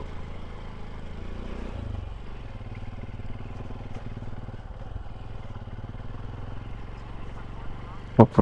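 A motorcycle rides off-road on rough rural trails in Bulacan, its engine droning steadily and fairly close with rattling clatter throughout, ending in a sharp loud knock at the very end.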